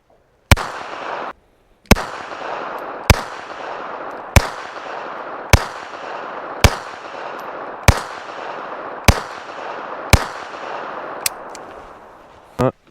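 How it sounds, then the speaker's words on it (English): A Beretta 30x Tomcat pistol fires at a steel target outdoors: about ten sharp, loud shots spaced roughly a second apart, each with a brief ringing decay, and a short gap after the first shot. "let's take our first shots"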